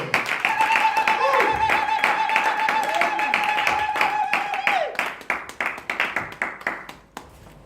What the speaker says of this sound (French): Applaudissons pour la gloire du Seigneur